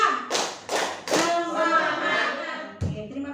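A group gathered for a training session claps in short, sharp rhythmic bursts, a few quick clusters of claps separated by pauses where a voice speaks, with one last burst near the end.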